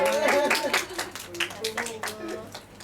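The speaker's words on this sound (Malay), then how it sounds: "Okey, pandai tepuk tangan." Children in a classroom clap hands in quick uneven bursts, close and moderately loud, mixed with excited young voices talking and calling out throughout.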